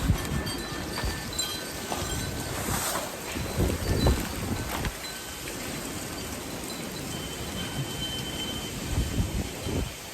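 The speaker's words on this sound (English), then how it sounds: "it is windy today" Steady wind gusting outdoors and buffeting the microphone, a constant rough rush with a few stronger bursts.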